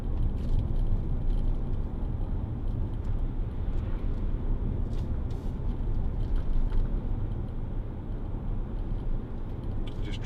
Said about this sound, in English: And we are on a very bumpy road.